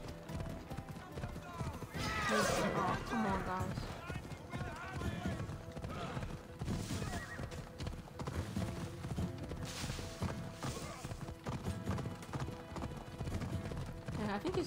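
Hooves of a Spartan horse clatter at a fast gallop in Assassin's Creed Odyssey, a continuous rhythmic beat lasting throughout, with a brief whinny and someone talking over the action at times.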